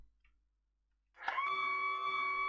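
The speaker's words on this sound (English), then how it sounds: "That noise you can hear is the hydraulic pumps." Hydraulic pumps start up in a Saab 340A flight simulator after a short quiet gap, settling into a steady, moderately loud electric whine with a sustained tonal hum.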